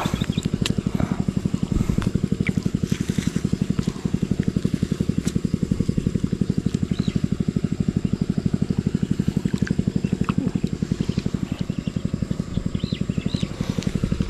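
A small engine chugging steadily at a low idle, a rapid even putter that stays close and constant throughout.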